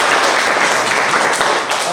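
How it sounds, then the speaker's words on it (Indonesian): Classroom audience applauding during a teaching session, dense steady clapping that fills the whole moment at close range and fairly loud, without any talk over it. "Ayo tepuk tangan."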